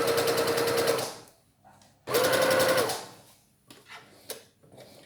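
A domestic sewing machine stitches fabric in two loud, fast bursts of rapid needle chatter, each about a second long, with quieter handling clicks and taps between them.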